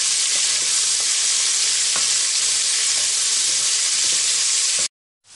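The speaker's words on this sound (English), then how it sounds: "Just saute this for about 2 minutes. These onions does not need to be brown" Onions sauteing in a pressure cooker while preparing chicken pulao, a steady close sizzle and hiss that runs unbroken for nearly five seconds, then cuts off abruptly.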